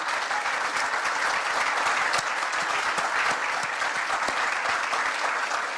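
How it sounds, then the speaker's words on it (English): A large audience at a political rally on tax cuts gives steady, dense applause, loud and continuous throughout with scattered louder claps and no talking. "And give yourselves a round of applause."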